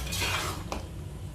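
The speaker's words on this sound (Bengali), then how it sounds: "এবার এটা হালকা হাতে মিশিয়ে দেবে।" A spoon gently stirs fresh cream into a white Shahi chicken gravy in a pan. There are a few soft scrapes and clinks of utensil against the pan, faint and close, with no talk.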